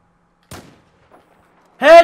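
A single sharp sniper-rifle shot cracks out in Battlefield 4 combat, brief and punchy, followed after a quiet gap by a loud voice shouting.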